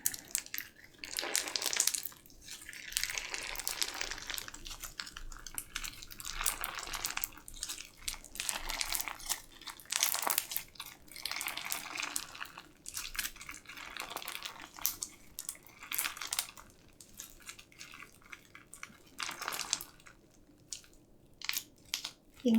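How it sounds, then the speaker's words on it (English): Crunchy slime add-ins squeezed by hand before being mixed into slime, giving repeated bursts of crisp crackling and crinkling in an irregular rhythm, close and fairly loud, with brief pauses between squeezes. "They make a really good crunchy sound."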